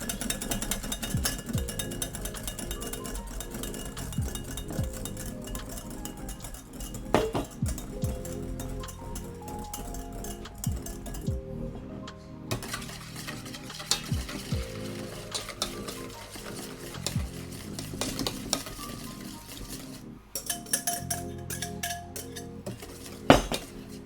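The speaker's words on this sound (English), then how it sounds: "Whisking vigorously." Vigorous whisking of tempered eggs in a bowl, a continuous rapid clatter and scrape of the metal whisk against the bowl, close and steady with brief pauses, with no one talking.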